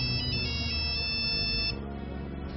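Phone ringtone in a Hindi film scene, a loud, bright electronic melody with steady repeating tones that keeps ringing without pause and then shifts pitch and drops slightly in level near the end.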